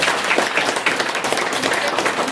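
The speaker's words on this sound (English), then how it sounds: "let's give our speaker a round of applause" Audience applause for a speaker at a DeSciNYC meetup, a close, lively burst of many hands clapping with distinct individual claps.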